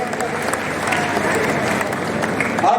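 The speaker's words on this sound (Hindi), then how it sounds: "जोरदार तालियां।" Crowd clapping at an outdoor political party rally in Jind, a broad, continuous wash of applause from many hands with murmuring and voices mixed in underneath.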